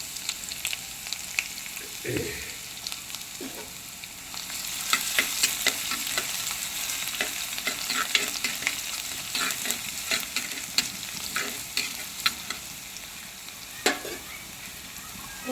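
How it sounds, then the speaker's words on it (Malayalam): Ginger frying in oil in a pan for a Kerala-style clam meat dish, a steady close sizzle with scattered crackles and a few stirring scrapes and knocks throughout, no voices. "അതിൻ്റെ പാകത്തേക്ക് ഇഞ്ചി ഇട്ട് കൊടুക്കാം"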